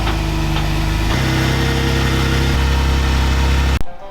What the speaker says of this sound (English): Hollie's gonna be pulling Mischief Maker up on the bed of the rollback, and we're getting this thing strapped